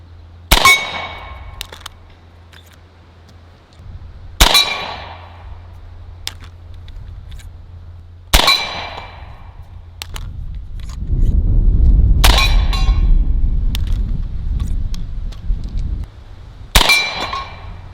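Pellets from an AEA Defender 2 air rifle strike a steel Texas Star target about 15 yards away, giving five sharp metallic clangs spaced a few seconds apart, each ringing briefly, with low rumbling noise between some hits.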